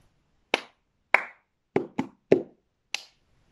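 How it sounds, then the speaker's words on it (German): Cup song rhythm played as hand claps and drumming on the floor: six sharp percussive hits in a clap, clap, three quick drum taps, clap pattern, close and clear with nothing else around them. "wir fangen an mit zweimal in die Hände klatschen, dreimal auf den Boden trommeln und wieder einmal in die Hände klatschen"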